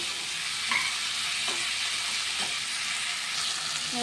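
Food stirred and fried in a pan, a constant close sizzle with occasional soft scrapes of the spoon and faint crackles, and no talking.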